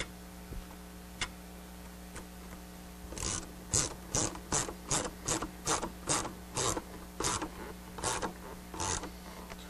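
Ratchet clicks in a steady run of about a dozen evenly spaced strokes, fairly close, as a hose clamp is tightened on a Superchips Trail Jammer EXT cold air intake, its rubber boot joining the filter; no one speaks.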